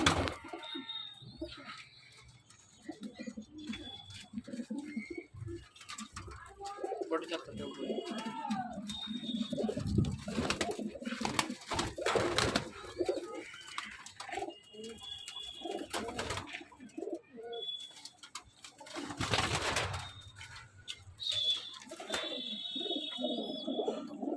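Fulsira pigeons coo and murmur throughout, with a person talking over them and intermittent handling noises and bursts of movement.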